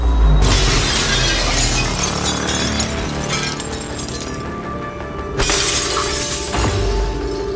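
Glass balcony door shattering in the video game Prey, a loud sudden crash followed by a spray of tinkling shards, then a second burst of breaking glass near the end.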